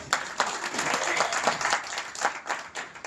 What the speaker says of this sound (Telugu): ఒకసారి గట్టిగా క్లాప్స్